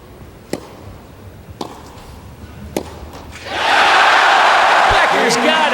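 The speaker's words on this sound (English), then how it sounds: "And the crowd roars its approval." The crowd at a 1989 Davis Cup tennis match between Becker and Agassi erupts into loud sustained roaring and cheering after a few sharp ball strikes, with commentary audible beneath the noise.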